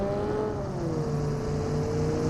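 A boat engine in a battle royale video game drones steadily and loudly, its pitch sliding slightly as it runs.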